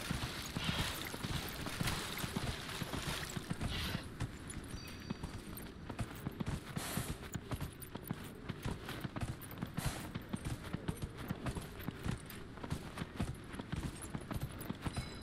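Horse hooves clip-clop steadily during riding in Dragon Age: Inquisition, a continuous fast rhythmic trot that stays even and fairly quiet throughout with no talk over it.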